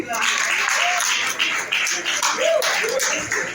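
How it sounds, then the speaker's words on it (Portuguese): Church congregation at a family worship service applauding, a steady broadband patter of clapping throughout, with voices and an occasional raised tone mixed in. "Vamos aplaudir a palavra."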